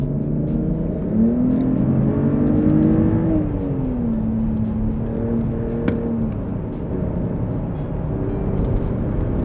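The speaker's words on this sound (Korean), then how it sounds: "여기서는 스포츠를 놓고 커브길을 한번 돌아볼게요" A Mercedes-Benz GLE 450 SUV in sport mode rounds a curve, its engine holding a steady, rising and falling drone with a sustained tonal note, heard from inside the cabin with no talking.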